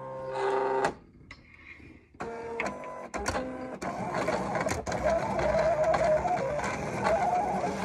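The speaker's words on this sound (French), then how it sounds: "Je place ma lame à 7. Je baisse un peu la force à 26. Et je peux lancer ma découpe." Silhouette cutting machine running a cut with its blade set to 7 and force at 26, giving a steady mechanical whirring and clicking with short stop-start bursts throughout.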